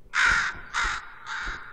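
A crow in a Portal 2 mod caws three times, harsh and close, with short pauses between calls and the last caw a little softer, with no voices.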